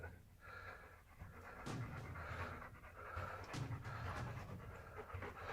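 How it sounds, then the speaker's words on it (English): A dog pants quickly and nervously in an underground cave, giving steady rapid breaths that come close by and faint, with soft huffs standing out now and then. "his dog begins suddenly panting nervously"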